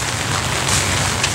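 Rain patters on a camera during an outdoor walking tour near a bridge at a lakeside campsite, a loud, close, continuous hiss with faint rumble and no talk.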